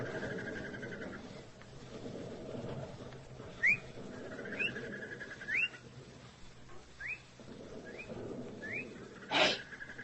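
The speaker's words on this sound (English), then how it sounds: "It's one of them birds, mating." Birds give short rising whistled calls, about half a dozen chirps spaced a second or so apart over a low steady hum, fairly faint and distant, with no voices over them.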